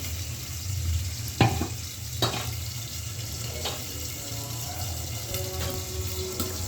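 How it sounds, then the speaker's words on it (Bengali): Spices fry in a pan before boiled bottle gourd goes in, giving a steady close sizzle with a few sharp clinks of a utensil against the pot, no voices. "এই যে আমি মশলাটা কষায় নিচ্ছি, এবার আমি লাউটা দিয়ে দিব।"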